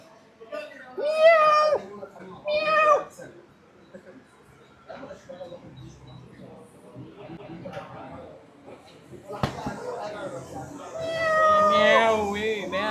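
A pet cat named Daisy gives a few loud, close meows, mostly near the start and again near the end, while people talk around it.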